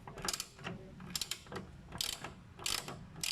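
A bolt is being worked out of a Hyundai Eon wiper motor assembly with a ratchet, giving quiet bursts of rapid clicking and metallic rattles. The clicking comes in short, irregular spurts at close range.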